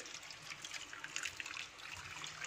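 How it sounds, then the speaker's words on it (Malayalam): Faint trickling water pours steadily into a pot of Kerala fish curry, a soft liquid splashing and dribbling without any talk. "ബാക്കി ഇരിക്കുന്ന വെള്ളമില്ലേ, അതും കൂടി അങ്ങോട്ട് ചേർത്ത് കൊടുക്കാം"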